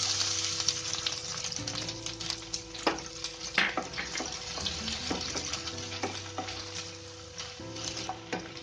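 Onions sizzle in hot oil with curry leaves and cumin for poha, a steady close frying hiss broken by clinks and scrapes of stirring, over a low background hum.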